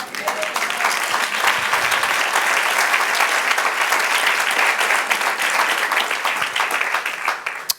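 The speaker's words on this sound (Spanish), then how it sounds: "Denle otro aplauso al Señor" A church congregation gives loud, dense, sustained applause from start to finish, with a few scattered voices underneath.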